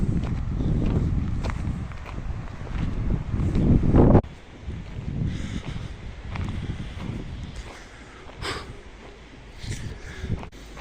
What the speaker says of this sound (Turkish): Evet güzel bir rüzgar var.